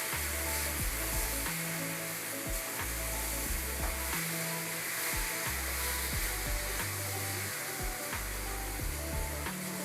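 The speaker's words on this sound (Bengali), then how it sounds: "মশলা থেকে একটু তেল ছেড়ে দিয়েছে, এবার লোটে মাছগুলো দিয়ে দেবো।" Bombay duck fish cook in oil and spicy masala with a constant broad sizzling hiss, accompanied by low, shifting humming tones throughout.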